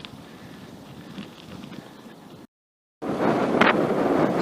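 Steady wind rush buffeting the microphone while cycling fast downhill with a tailwind in Japan, broken by a brief dropout, then returning louder with a sharp gust.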